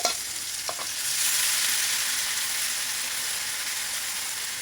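Steady, loud sizzling of ground chili and garlic frying in hot oil in a pan, hissing continuously after a brief stir at the start.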